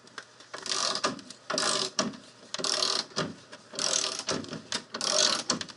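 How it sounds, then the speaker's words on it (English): A hand ratchet winding a coil spring compressor on a 1966 Ford Mustang during steering work, a fast clicking ratcheting in repeated strokes, close and fairly quiet, with no talking. "now I just get up on the top with the ratchet,"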